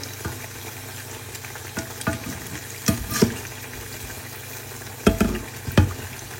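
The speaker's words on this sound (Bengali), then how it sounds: "বেগুনিগুলো অনেক সুন্দরভাবে ফুলছে টুপুস টুপুস করে" Eggplant fritters (beguni) fry in oil with a continuous bubbling sizzle, broken by a few louder clinks and stirring knocks near the pan.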